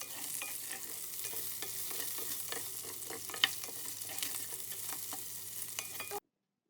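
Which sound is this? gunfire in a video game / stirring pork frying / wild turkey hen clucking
stirring pork frying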